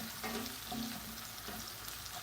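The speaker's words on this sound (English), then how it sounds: "as this onion is caramelizing nicely" A frying pan of onion caramelizing in Italian cooking with sage, giving a continuous close sizzle broken by a few soft stirring clicks and shuffles, no voices.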